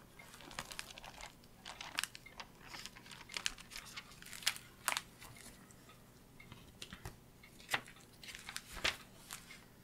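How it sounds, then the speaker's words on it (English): Thin pages of an old family Bible, dated 1955, are turned and handled close by, giving scattered crisp rustles and crinkles that come in irregular bursts. "That's the sound of the pages."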